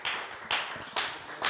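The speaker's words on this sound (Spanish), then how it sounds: "denle un aplauso al Rey de Reyes y Señor de Señores." A church congregation applauds in a Denver church, sounding as a few distinct clap bursts at regular intervals, moderately quiet and without talk.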